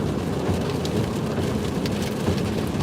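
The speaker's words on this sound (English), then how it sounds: "We're getting some wind now, and the rain's starting to pick up." Steady rain and gusting wind during an Oklahoma hail storm in Blanchard make a dense, continuous hiss and low rumble, close and even throughout with no talking.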